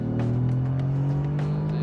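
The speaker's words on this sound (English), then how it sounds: "Even at city speeds, the way it snarls, oh my God." A Mercedes-AMG GT R's engine snarls at low city speed, a close, loud, steady harmonic growl that rises slightly over about two seconds, with no voices over it.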